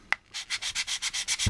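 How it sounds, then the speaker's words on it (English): Plastic part from an AMT U.S.S. Enterprise model kit being sanded, a sharp tap followed by about nine even rhythmic rasping strokes, close and clear with no talk. "Cross sand this way. We'll do it again this way."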